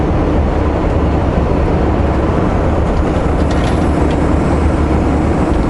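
A heavy, continuous low rumble with rattling and clanking as a freight train of potash cars rolls past steadily, loud and close, with faint metallic squeals and no voices.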